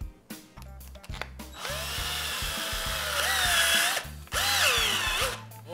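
A power driver tightening the axle nut on a skateboard wheel, giving several short, loud whirring bursts with a rising whine that run into one long continuous spin.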